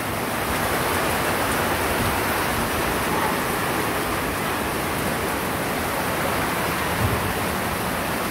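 Heavy downpour with strong wind during a sudden storm, a dense, loud, unbroken roar of rain that stays steady throughout, with no voices.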